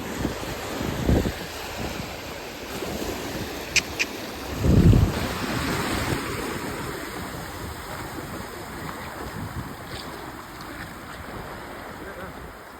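Sea waves wash in at Gangasagar, where the Ganges meets the ocean, as a continuous surf roar heavy with wind buffeting the microphone, with a few louder gusts and thumps and some faint voices in the background.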